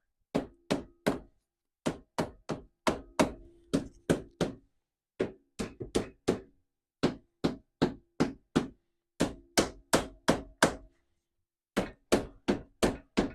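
A hammer knocks on a seized brake drum of a 1992 Suzuki QuadRunner. Sharp metallic blows land close up in quick bursts of three or four, each burst separated by brief pauses.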